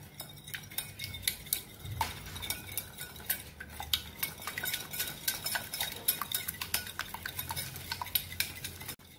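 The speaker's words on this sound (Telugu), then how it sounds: "ఇది నీట్ గా విస్క్ చేస్తాను." Eggs whisked in a bowl, a fast steady run of close metallic clicks and taps from the whisk against the bowl, continuing for several seconds with no voices.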